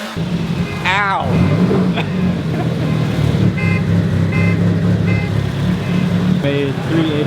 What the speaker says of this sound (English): Bro, you set off the alarm, bro.